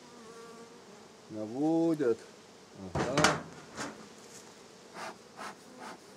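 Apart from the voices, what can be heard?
honeybee swarm buzzing at a hive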